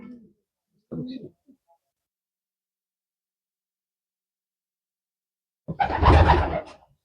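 A male racing pigeon, an imported Koopman bird, gives a couple of soft, low coos, then a silent pause, then a louder, fuller coo close by near the end.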